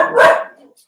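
A single dog gives one short, loud bark up close, trailing off quickly into quiet.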